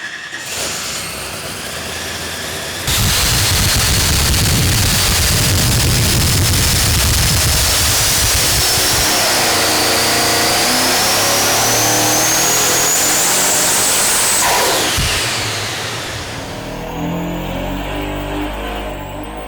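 A loud Vortech-supercharged Ford engine in a '68 Mustang revs hard on a dyno on C16 race fuel, steadily climbing in pitch through a long pull, with a rough, sputtering misfire near the top before easing off.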